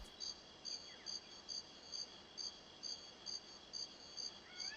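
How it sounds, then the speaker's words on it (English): Crickets chirping in a GoldenEye 64 jungle-style level, a faint, steady ambience of evenly spaced chirp pulses repeating about twice a second over a soft hiss, with nothing else in the scene. "because it's just like nothing but crickets."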